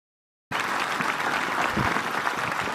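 Loud applause breaks out suddenly after a brief silence at a school event at Nyamira Boys High School, a thick, sustained clapping from a large audience.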